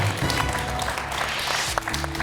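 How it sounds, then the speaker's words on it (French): Studio audience of a French TV quiz show applauding after a face-to-face round, a loud, dense wash of clapping that continues throughout with low background noise. "Chaleureusement applaudi par Jean-Pierre."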